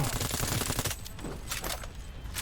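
Gunfire in the video game Cyberpunk 2077, a rapid burst of automatic shots for about a second followed by a few scattered single cracks against a background of game noise.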